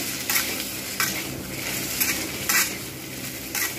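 Taro pieces fry in oil with a continuous close sizzle, punctuated every half second or so by rhythmic scraping strokes of a spatula stirring the pan.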